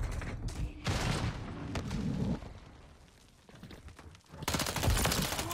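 Striker 9 shotgun in a video game firing in rapid bursts, loud blasts clustered early, a quieter lull, then another dense volley near the end; no talking.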